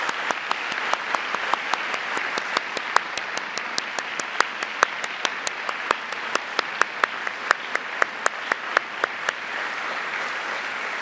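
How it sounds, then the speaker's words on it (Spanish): Applause from the audience for victims at the Colombian Truth Commission's final report presentation, steady dense clapping with sharp individual claps standing out, sustained loud and even for the whole stretch. "un aplauso muy fuerte para todos"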